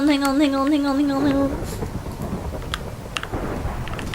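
Thunderstorm in the video game Minecraft, a low rumble and rain wash with scattered crackles, following a brief high-pitched voice or tone at the start.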